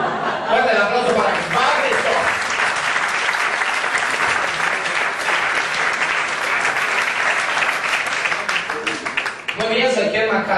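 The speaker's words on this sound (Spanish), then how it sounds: "Fuerte el aplauso para" Strong, sustained applause from the audience at a stand-up comedy show, dense clapping with some chuckling mixed in, lasting about ten seconds before tapering near the end, where a voice briefly comes through.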